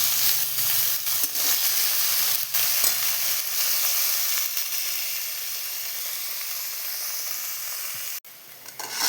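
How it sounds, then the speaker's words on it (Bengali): Onions sizzling in hot oil as they brown for a home-style chicken kosha, a steady close crackling hiss with light stirring clicks and a brief interruption near the end. "আমি পেঁয়াজগুলো লাল করে ভেজে নেব"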